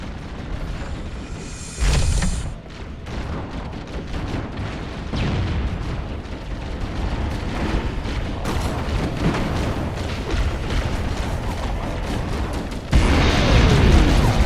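A pulse generator overloads and explodes in a video game, producing a loud, sustained roar of booming, rumbling blasts with bursts at the start and end and no voices over it.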